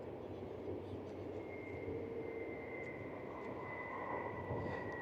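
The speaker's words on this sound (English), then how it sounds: "Looks like there's one more plane coming in." A fixed-wing airplane touches down at the far end of a runway, making a steady, broad engine roar with a faint sustained whine that holds at a moderate distance for the whole stretch.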